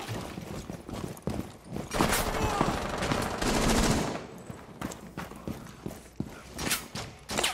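Gunfire in the shooter game Rainbow Six Siege cracks out as several bursts of rapid shots, fairly quiet overall, with a sustained automatic volley in the middle and scattered single shots around it.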